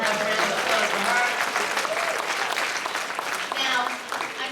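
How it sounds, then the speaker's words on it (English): Audience at a dinner event applauding, a dense wash of clapping that holds steady throughout and thins slightly near the end, with some voices mixed in. "let's please have a round of applause for her"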